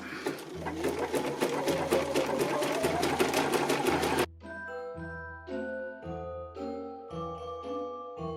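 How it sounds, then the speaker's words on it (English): Sewing machine running a decorative stitch down the center of fabric strips for a Christmas star ornament, a fast steady close whir for about four seconds, then stopping as gentle chime-like tones follow. "Choosing your decorative stitch, simply sew down the center of each strip."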